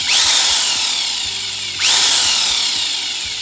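An electric drill mounted on a tool-sharpening lathe rig whines at high speed, cutting out briefly and then spinning up again, loud and close, with no talking.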